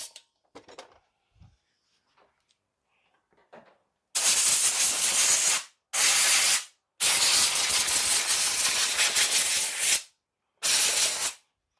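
Compressed air at about 100 psi blasts dirt off an ARRMA RC car after a beach bash, in four loud, steady hissing bursts of varying length separated by short silences, after a few quiet handling noises.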